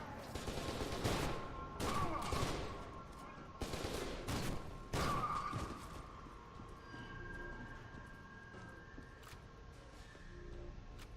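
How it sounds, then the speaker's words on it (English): Automatic shotgun fire in the video game F.E.A.R. 2, a series of rapid heavy blasts in quick succession that then give way to quieter background noise, with faint talk mixed in. "Automatic shotgun."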